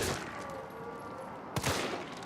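Gunfire from a handgun shooting zombies in Resident Evil 3, a dense burst of game shots and impacts running through the clip with a sharper loud shot near the end, no talking.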